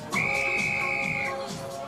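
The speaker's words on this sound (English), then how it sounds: "whistle blows" Referee's whistle at a kickboxing bout, a single sustained shrill blast lasting about a second, loud and clear over a murmuring arena crowd.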